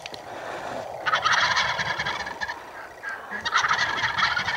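Wild turkeys gobble during a New York youth hunt, with two loud, rattling bursts from a strutting bird some distance off and calmer outdoor background noise between them.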